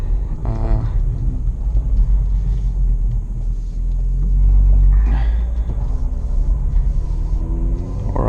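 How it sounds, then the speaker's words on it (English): A BMW M135i engine at cold start: a loud, steady low engine rumble idles throughout, swelling briefly in the middle before settling back, with no voices. "so this is the noise at cold start"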